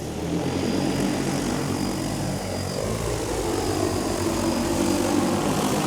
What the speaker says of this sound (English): Aircraft preparing to take off.